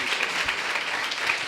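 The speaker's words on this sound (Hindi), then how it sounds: "आइए जोरदार ताली बजाएं परमेश्वर के लिए." Applause and clapping from a congregation at a Sunday evening Pentecostal church service, a steady dense patter of many hands, moderately loud and continuous with no talk over it.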